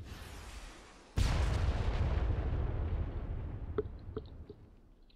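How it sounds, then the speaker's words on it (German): Rocket fire and explosions in the video game ArmA 3: a sudden heavy boom that rolls off slowly, followed by a few sharper, smaller pops later on. "ich hab noch Raketen, dann schieße ich noch."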